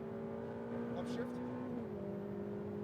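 Ferrari F8 Tributo engine on a racetrack, accelerating in a steady roar with one upshift that briefly drops the pitch, heard up close under spoken instructions.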